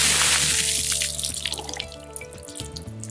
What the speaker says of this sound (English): We've got the bucket of ice water here